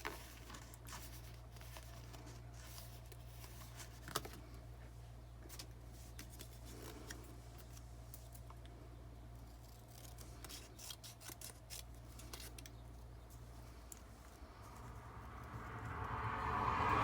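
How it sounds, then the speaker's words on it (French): Scissors cutting a card for sports fans, heard as quiet snipping and rustling over a constant low hum, with a sharper snip partway through and rising noise at the end. "On va essayer, je vais le découper."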